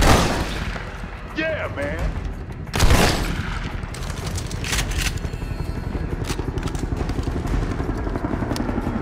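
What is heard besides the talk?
gunfire in the video game Army of Two: The Devil's Cartel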